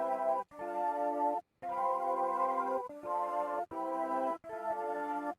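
A sustained low organ-like synth note with rich harmonics, played in repeated held phrases separated by short silences, clean and steady with no voices.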